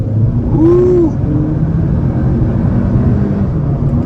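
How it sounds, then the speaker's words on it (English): A 2023 Audi A3 mild hybrid car accelerates hard, a steady engine and road rumble heard from inside the car, with a brief whooping exclamation near the start. "Looks like a good spot to step on the gas."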